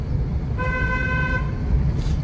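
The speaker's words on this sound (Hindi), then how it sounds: "लॉन्ग हॉर्न प्रेस करिए" A car horn sounds once in a steady long honk lasting about a second, heard from inside a car in traffic, over a low rumble of engine and road noise.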